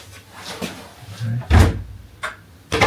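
Hotel room doors in a Torremolinos hotel opening and closing, giving several thumps and knocks spread across a few seconds, the loudest near the middle, with faint talk in the background.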